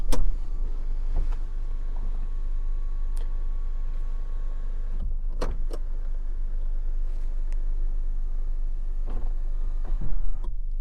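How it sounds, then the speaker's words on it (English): Power moonroof motor on a 2021 Honda HR-V EX-L, a steady electric whir running the length of the cabin recording, broken by a few sharp clicks near the start, middle and end, with no talking. "a one-touch power moonroof"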